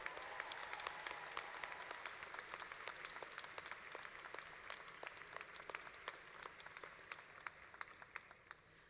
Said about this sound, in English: Graduates, will you please join me in applauding your families, your friends, and the NIU faculty and staff who helped you get here today.